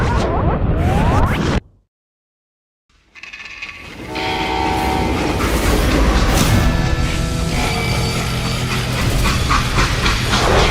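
Freight train in the Call of Juarez Gunslinger video game: after a brief loud burst and a second of silence, rumbling rail noise and screeching wheels build and then hold loud and steady to the end.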